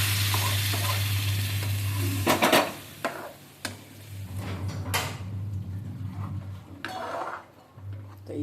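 Dal poured into a hot tadka sizzles loudly and is stirred, with sharp scrapes and clanks of a spoon against the pan punctuating the steady frying hiss.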